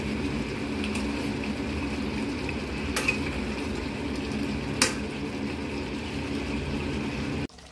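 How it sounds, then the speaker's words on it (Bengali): Chicken biryani being stirred in a pot with the lid off, a steady close sizzle under soft scraping, with two sharp clinks of a utensil against the pot. "5 মিনিট বাদে ঢাকাটা খুলে আবার একটু নাড়াচাড়া করে দিচ্ছি"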